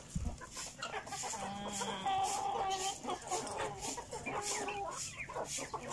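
A flock of backyard chickens clucks and chatters up close, overlapping bursts of clucks and short calls repeating throughout at a moderate, lively pace.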